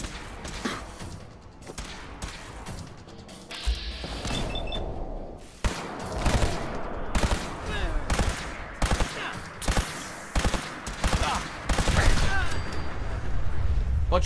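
Video game gunfire from a band of Gunners in Fallout 4's Nuka World, with dense bursts of shots and thuds repeating throughout under a busy, loud mix, and brief voices mixed in.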